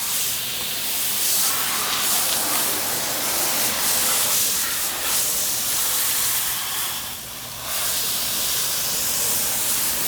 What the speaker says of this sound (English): But as you can see, it does throw out a lot of soap.